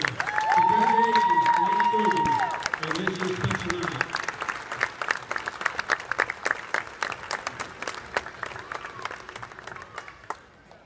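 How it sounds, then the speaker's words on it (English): At a high school girls' basketball senior night, a voice carries over the crowd at first, then loud applause and cheering thin into scattered claps that fade away. "how about one more round of applause for that blue chip?"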